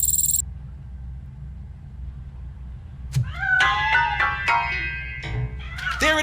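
Several short meows from a cat in the video game RoboCop: Rogue City ring out one after another after a few seconds of near quiet, bright and fairly close, with a low hum underneath.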